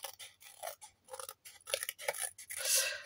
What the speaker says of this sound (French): Je vais juste découper le bord.